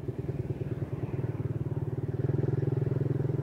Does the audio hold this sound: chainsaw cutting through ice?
no